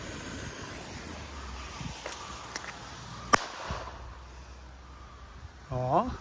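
A Funke Petarde firecracker goes off outdoors as a single sharp, fairly distant bang partway through, with a few smaller crackles before it, quiet ambient noise and a short louder rustle near the end.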